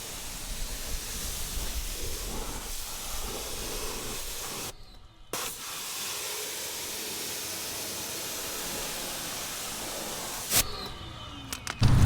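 A garden hose sprays water over car wheels and tires during a wheel cleaning, giving a steady broadband hiss that runs for several seconds with a brief break partway through and a few knocks near the end.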